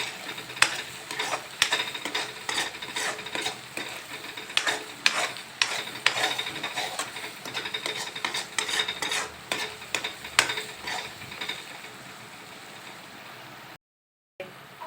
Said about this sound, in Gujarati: થોડી વાર મસાલાને પણ આવી રીતે સાતળવા દઈશું